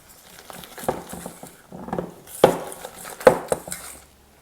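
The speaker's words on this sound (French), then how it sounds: "On mélange à nouveau pour incorporer les poudres au blanc d'œuf." A spatula folding almond powders into egg whites in a bowl, soft scraping and wet stirring strokes with a couple of sharper taps against the bowl, close and fairly quiet.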